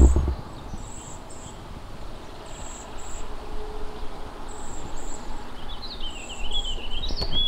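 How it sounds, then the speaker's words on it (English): Thin, high-pitched trilling calls of cedar waxwings repeat on and off from a nearby tree over a quiet outdoor background. "the cedar waxwings have been in this tree like crazy."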